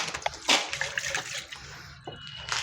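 Hardener being poured into H primer during mixing: a close, wet splashing and sloshing of liquid with brief trickles, short bursts of pouring over about three seconds.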